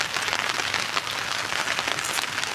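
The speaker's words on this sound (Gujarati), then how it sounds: "એકદમ વરસાદ આવે છે" Heavy rain pours steadily, a dense close hiss of drops hammering a surface without pause.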